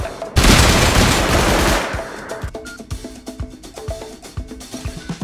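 AK rifle fire in the survival game Rust: a loud, close burst of rapid shots opens, then sharp, spaced single shots and short bursts crack one after another, some clearly more distant.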